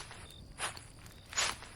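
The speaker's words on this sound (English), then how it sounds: "We could hear Claire's footsteps in the leaves, heading toward the outhouse." Footsteps crunch through dry leaves outdoors at night, two distinct rustling steps close by with quiet pauses between them.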